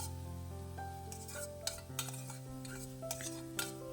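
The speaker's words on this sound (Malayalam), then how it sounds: "ഇനി ചെറു തീയിൽ തന്നെ ഇട്ട് നന്നായിട്ട് ഇളക്കി കൊടുത്ത് വഴറ്റിയെടുക്കണം" Grated carrot is stirred and sautéed in a pan over a low flame, with repeated scraping strokes and light clinks of a spoon against the pan over a soft sizzle and a steady background hum; no talking.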